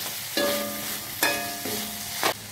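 Mint leaves sauté in a pan for a Tamil-style mint chutney, with three distinct metallic scraping strokes that ring briefly over a light sizzle, close and alone.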